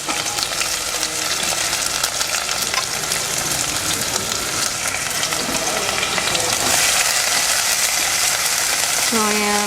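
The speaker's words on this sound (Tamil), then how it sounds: "சூடானதும் நம்ம வந்து வெங்காயம் போடுறோம்" Sliced onions hitting hot oil in a pan for homemade chicken biryani, giving a loud continuous sizzle that holds steady throughout, with faint voice-like tones showing near the end.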